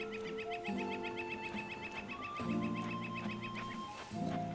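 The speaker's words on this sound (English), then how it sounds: "Is there actually a bird in a tree, or is that an ambient sound of birds?" Ambient birdsong in the video game Tears of the Kingdom: repeated high chirps and calls run steadily through the clip, layered over soft tonal game music, with no talking.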